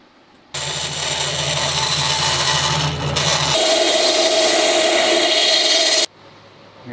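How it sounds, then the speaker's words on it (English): A sanding wheel shaping a wooden part for a handmade classical guitar, a loud continuous abrasive whir that starts abruptly, shifts in tone midway as the workpiece is pressed and moved, then cuts off. "And then you just shape it with the sanding wheel."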